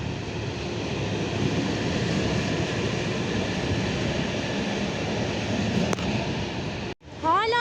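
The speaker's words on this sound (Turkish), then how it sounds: "Tren geçiyormuş." Steady, loud rumbling roar of a long freight train passing nearby, continuous and unbroken, ending abruptly near the close.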